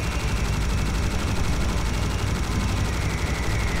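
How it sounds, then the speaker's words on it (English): Relentless minigun fire and explosions from the video game Serious Sam HD, a loud, dense, continuous roar of rapid gunfire with booming blasts layered throughout, no pauses. "Just the rat-a-tat-tat of my minigun, and just the exploding of them."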